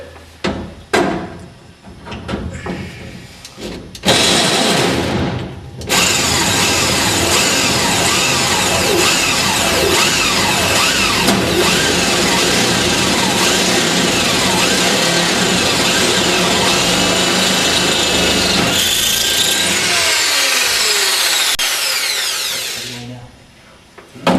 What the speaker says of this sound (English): and then you can drill through